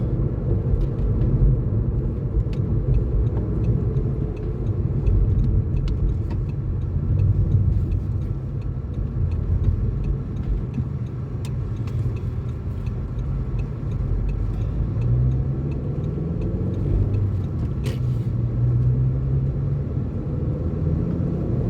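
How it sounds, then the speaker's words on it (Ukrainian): A car pulls away and drives on in Poland on a shopping Sunday, with a steady low engine and road rumble lasting about twenty seconds, no talking, and a few faint ticks above it. "Виїжджаємо."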